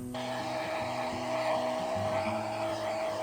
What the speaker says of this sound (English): To dry it quickly, I'm just going to use a hairdryer.